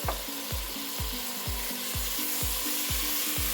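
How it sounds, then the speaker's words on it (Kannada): About half a kilo of chopped tomatoes being sautéed in a pan for tomato pulao, with a soft steady sizzle under a regular rhythm of about eight spoon strokes scraping the pan, close and fairly quiet, no talking. "ಟೊಮೊಟೊ ಹಾಕಾದಮೇಲೆ ಈ ರೀತಿ ತಿರುವು ಕೊಡಬೇಕಾಗತ್ತೆ ಈ ರೀತಿ ಚೆನ್ನಾಗಿ ತಿರು ಕೊಡಬೇಕು"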